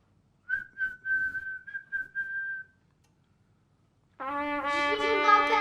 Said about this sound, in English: you have to whistle for it. So we'll do jingle bells to find it.